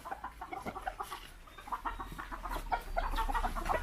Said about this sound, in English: Time to feed the chicken.